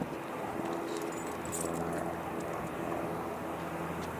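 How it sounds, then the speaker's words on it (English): An airplane flying nearby gives a steady, fairly loud broadband drone that stays constant with no other sounds over it. "And there's an airplane."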